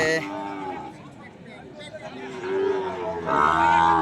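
A Sahiwal heifer calf at a cattle market moos in several drawn-out, fairly loud calls, with other market noise behind.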